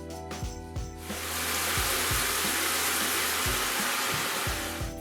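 A rain shower head in a condo bathroom turned on, a few handling clunks and then a steady, loud, even rush of falling water filling the space.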